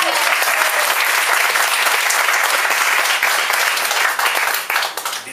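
An audience applauds a singer at a Helsinki venue celebrating a gold album, a dense, loud burst of clapping that stays strong before thinning out in the final second.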